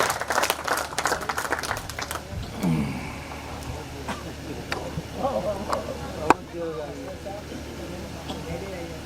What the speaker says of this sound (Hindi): अपने हाथों को खोलेंगे, जोरदार अंदाज में तालियां बजाएंगे